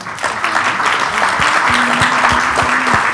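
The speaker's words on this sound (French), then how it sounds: "Merci aux participants que l'on peut applaudir." An audience claps for conference participants, a dense burst of applause that stays steady for the few seconds heard, with a faint voice and a sustained tone underneath.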